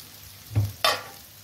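Local Shillong eggplant frying in a covered pan gives two brief sizzling bursts close by as the lid is lifted, with no voices.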